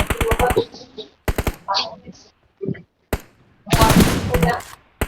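Rapid bursts of gunfire from a 3v3 multiplayer shooter game, loud clusters of shots separated by short gaps, mixed with a few other game effects.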